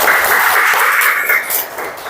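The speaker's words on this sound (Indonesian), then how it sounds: "Kasih aplaus buat kita semua" Classroom applause during a teacher's performance-test lesson, with a dense, steady wash of many hands clapping close by, strong throughout and easing slightly near the end.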